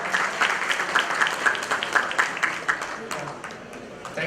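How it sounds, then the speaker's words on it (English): Conference audience gives a round of applause for a guest speaker, a steady wash of many hands clapping at close range that gradually thins toward the end, with no talking over it. "A big round of applause, please."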